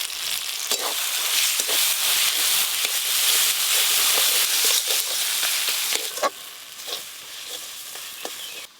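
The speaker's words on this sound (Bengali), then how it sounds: "এবার টমেটো কুচি দিয়ে আর একটু ভালো করে কষিয়ে নেব।" Spices are sautéed with chopped tomato and salt in hot oil, giving a dense, constant sizzle broken by frequent scrapes and taps of a stirring spoon, all close and loud.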